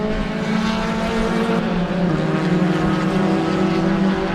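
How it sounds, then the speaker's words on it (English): A pack of Spec Racer Ford race cars roars together at Sebring during an enduro race, a dense, sustained engine drone with overlapping pitches that climbs steadily as the cars accelerate. "look at this gaggle of Spec Racer Fords, man"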